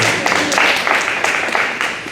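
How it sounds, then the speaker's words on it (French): Applause from a church congregation during a sermon, a dense steady wash of many hands clapping for about two seconds, fairly loud and continuous with no clear pauses. "Applaudissons la surprise quand même"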